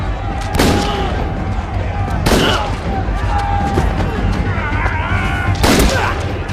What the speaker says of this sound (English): Victor, taking a gun from his men, started shooting at Mason, but every shot hit a different prisoner.